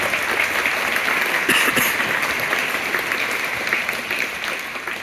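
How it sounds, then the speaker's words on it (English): Audience applause at a sixth-grade school winter concert, steady crowd clapping at moderate loudness that holds evenly across the clip, with a brief brighter burst of nearby claps partway through. "Give them an applause."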